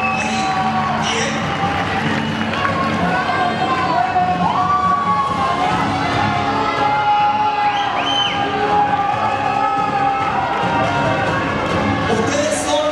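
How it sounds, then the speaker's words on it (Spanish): Crowd noise with cheering and whoops from an audience greeting three contestants on stage at a semifinal show, loud and continuous throughout, with voices mixed into the din. "Fuerte el aplauso para Vanessa, Ivana y Bruna."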